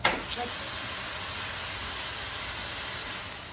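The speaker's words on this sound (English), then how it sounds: "Little lamb patties. Okay, we're gonna start frying them up." Loud, steady sizzling and hissing of lamb patties frying in a hot pan, filling the whole moment with bright crackling noise.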